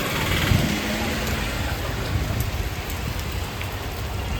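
Heavy rain falls steadily as a dense, even hiss of drops on surfaces, close and constant throughout, with a faint vehicle engine murmuring underneath.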